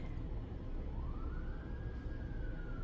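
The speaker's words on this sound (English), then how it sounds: "I'm hearing more sirens, so I'm going to pause here." A distant siren wails faintly, its tone rising slowly then holding, beneath a loud steady low rumble.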